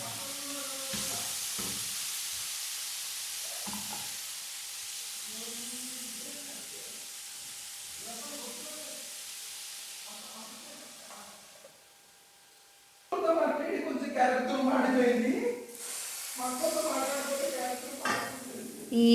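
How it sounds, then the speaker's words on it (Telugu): Grated carrot is stirred in a pan on the stove, with faint scraping and a soft sizzle, then louder clattering stirring and utensil sounds toward the end. "ఇలా క్యారెట్ తురుమును ఒకసారి కలుపుకొని మనం ఇది మగ్గేంత వరకు మూత పెట్టుకుందాం."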